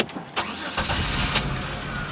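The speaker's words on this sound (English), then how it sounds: "Then turn the key, then turn the car on" A 1998 Chevrolet Lumina engine cranks and catches, settling into a steady close idle rumble after a couple of short bursts.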